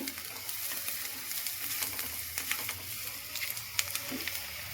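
Potato and chicken mince frying in a pan with salt and a little sugar just added, a soft steady sizzle with faint scattered stirring ticks, fairly quiet and with no talk over it.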